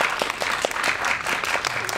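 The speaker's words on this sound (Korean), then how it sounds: "박수 한번" Audience applause at a film stage greeting, a continuous wash of many hands clapping with a few louder claps standing out, steady and moderately loud.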